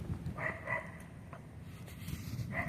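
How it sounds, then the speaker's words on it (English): Dogs bark down a street, a few short harmonic barks spaced apart over steady low background rumble, moderately distant. "just the barking of dogs is"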